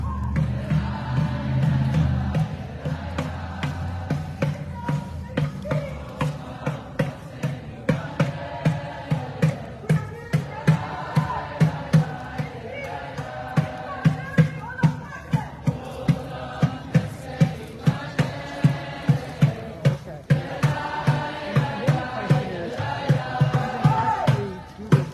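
A large protest crowd at Brown University fills the space with a continuous roar of voices, while a war drum pounds out a steady, repeated beat throughout, loud and close.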